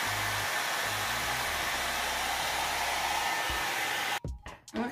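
An AIMA One Step blow dry brush runs steadily on curly hair, a loud continuous whooshing hum that cuts off near the end, leaving brief rustling.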